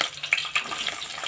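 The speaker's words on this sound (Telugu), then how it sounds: "వేడెక్కింది, సౌండ్ వస్తుంది చిట్పటని." Green chilies crackle in hot oil in a pan, a brief burst of sizzling with quick pops and spits, close and alone.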